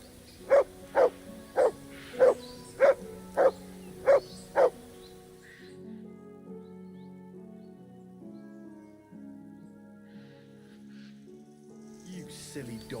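Seven sharp, evenly spaced dog barks from a dog in the video game Kingdom Come: Deliverance II ring out loud and close over the first five seconds, then give way to soft background game music.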